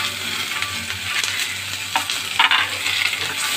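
Potatoes, carrots, beans and drumstick stems stir-fry together in a pan for shukto, a loud, close crackling sizzle with spatula scrapes and stirring bursts throughout.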